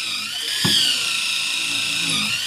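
A power drill whines continuously at close range on a new fiberglass boat under construction in Manokwari, a steady high-pitched electric motor sound with a brief thump near the start.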